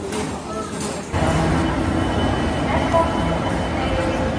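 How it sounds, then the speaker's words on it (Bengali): A Panskura local train pulls into platform 20 at Howrah station, a loud steady rumble and rolling roar of wheels that swells partway through, with station noise and faint voices in the background. "আমাদের ট্রেন পাঁশকুড়া লোকাল কিন্তু এই মুহূর্তে ঢুকছে 20 নম্বর প্ল্যাটফর্মে"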